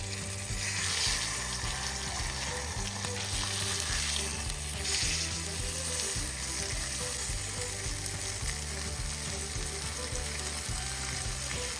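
A pork roast sears in a pan over a medium flame, giving a steady, close, continuous sizzle and crackle that holds evenly for the whole stretch, with no voices over it.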